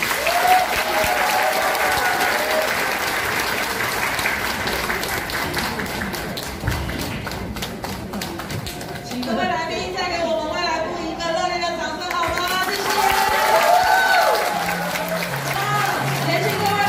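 A hall audience applauding to welcome children performers at a Taiwan Soka Association event, sustained dense clapping throughout with an announcer's voice and music coming in over it partway through.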